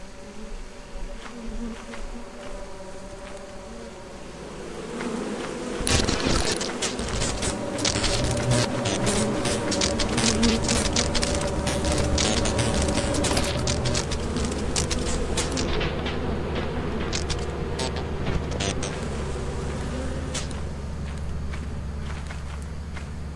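Bees buzz in the video game Lethal Company, a dense droning swarm that swells loudly after a few seconds and stays close, mixed with footsteps and scattered clicks, with no talk.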